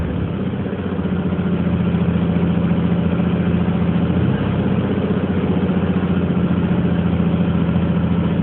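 A Volkswagen Beetle engine idles steadily with the choke on, a loud, even, continuous low rumble close by with no talking.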